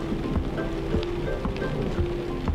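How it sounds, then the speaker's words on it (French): Steady rain patters on a surface close by, a constant dense spatter with occasional heavier drops and no voices. "Théo, Didi, regardez, il pleut vraiment."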